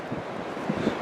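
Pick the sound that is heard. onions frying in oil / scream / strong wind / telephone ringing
strong wind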